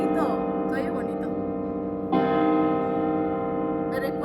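Church bells ringing in Assisi, rich sustained tolling with long ringing overtones, a fresh strike about halfway through, fairly close and steady with no talk over it.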